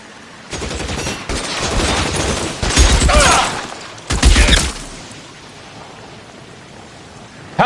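Heavy, sustained gunfire in a shootout from the crime game L.A. Noire, loud dense volleys in two long bursts with a short break between, then a quieter tail.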